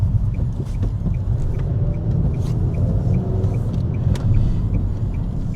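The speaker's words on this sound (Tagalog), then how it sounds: "Saglit lang mga lods, kasi maraming sasakyan." Steady traffic from many cars passes on a city road near a traffic-light crossing in Vancouver, a constant close rumble with no talk over it. A faint regular ticking runs throughout, like a turn signal.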